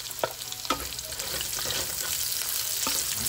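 Onion sautéing with garlic in a pan for pork igado, steady close frying sizzle with a few sharp spatula scrapes early on, no voices.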